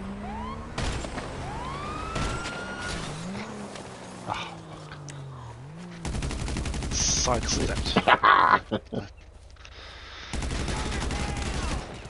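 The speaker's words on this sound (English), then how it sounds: "Who's shooting me?" Gunfire in GTA Online: bursts of rapid shots cut between stretches of wailing police sirens, loud and close, with abrupt changes in the mix and no talking.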